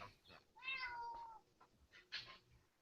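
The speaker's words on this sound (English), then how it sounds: "I hear a cat on one of your all screens." A cat meows twice over a video call during a podcast recording: a drawn-out, falling meow followed by a shorter one, faint and slightly distant, with no talk over it.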